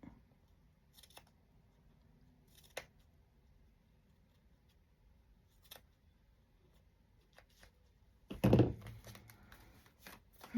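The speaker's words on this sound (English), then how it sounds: "I want it trimmed, so we're going to trim it." Scissors trimming the fabric cover of a handmade floral journal, a few faint, sparse snips at close range in a quiet room, ending in a louder thump of handling.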